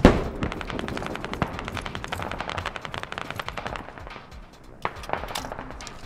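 Gunfire in the military shooter game Squad, a sharp opening shot followed by long sustained bursts of automatic fire with scattered single cracks, fairly loud and dense throughout.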